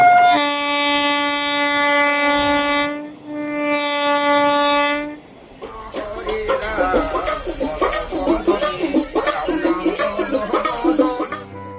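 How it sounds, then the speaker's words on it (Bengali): A train pulling out of Howrah station at night sounds two long, loud horn blasts, then the rhythmic clatter and rumble of wagons gathering pace close by. "আমাদের ট্রেন হাওড়া স্টেশন থেকে ছেড়ে দিল পুরুলিয়ার উদ্দেশ্যে"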